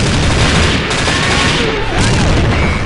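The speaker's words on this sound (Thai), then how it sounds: "ถือระเบิดไว้ด้วยมือหมายมั่นปั้นมือว่าจะปาแล้วปาไปแล้ว ปาไปแล้วแล้วก็เงียบ ระเบิดมันได้ครับ" Loud grenade blast in the online shooter game Xshot Online, a dense burst of booming noise that stays heavy and sustained through the whole stretch, alongside gunfire-like crackle.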